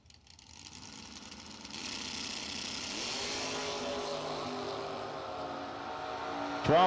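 A 1929 Ford Roadster drag car with a 433 cubic inch Ford engine roars down the strip alongside another race car, a distant engine swell that builds into a sustained, loud drone before a sharp burst at the end.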